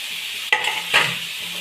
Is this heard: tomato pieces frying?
yes